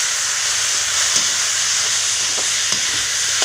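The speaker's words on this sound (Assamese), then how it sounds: "এইখিনি 2 মিনিটমান ফ্ৰাই কৰিলে হ'ব" Chicken liver and boiled potatoes frying in a pan give a steady, close hiss and sizzle, with a few faint clicks and no talking.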